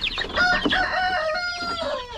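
A chicken crows loudly and close by, one drawn-out call with a rising start and a long held tail, heard alone with no talk.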